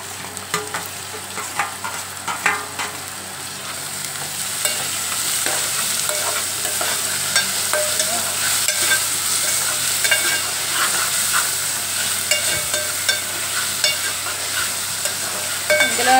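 Onions, green chillies and curry leaves sautéing with added tomatoes in a pan, a continuous loud sizzle under repeated scraping and clacking of a spoon stirring, steady throughout, no talking.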